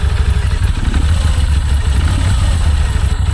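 An old motorcycle engine runs loudly at a rough, shaking idle, a steady close rumble with clattering pulses and no other sounds.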